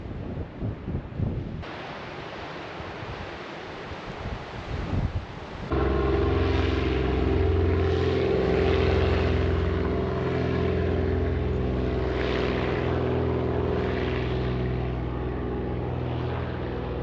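A propeller plane flies over a bay on the Hebridean island of Colonsay, its engine drone rising after a few seconds into a loud, steady, close hum that holds for the rest of the clip, with no talking.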